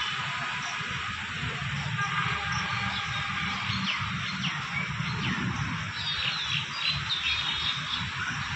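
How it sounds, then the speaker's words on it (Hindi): Morning birdsong in a park, thin chirps and tweets running continuously above a steady outdoor rumble with faint background activity. "देखिए सुबह सुबह चिड़ियाँ भी बोल रही हैं"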